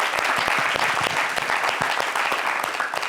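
Applause from a concert audience, dense and steady with sharp individual claps standing out throughout, loud and close.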